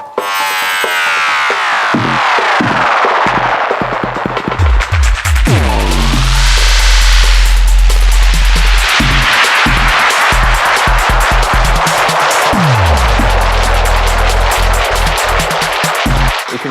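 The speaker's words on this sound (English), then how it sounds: "So the spiral is like a tape delay that's gone bananas" A Pioneer DJM-900 Nexus mixer's spiral effect, a wild tape-delay-style smear, loud and continuous, with swooping pitch sweeps rising and falling over rhythmic pulses and a gritty, noisy wash.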